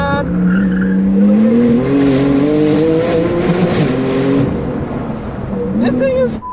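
A Porsche 992 Turbo S driven hard on a race track, its engine droning loud and steady with shifting pitch through corners, brief tire noise, and a voice talking over it throughout.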